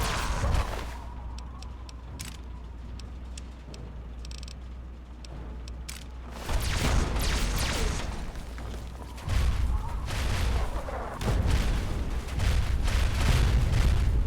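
Mini nuke blasts in Fallout 3, heavy booming explosions landing in several loud bursts after a quieter stretch of low hum and scattered clicks, each blast followed by a rumbling roar.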